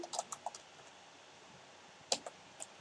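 Keys tapped on a computer keyboard while entering a C program, a few light clicks in a quick cluster, a pause, then a couple more taps, close and fairly quiet without speech.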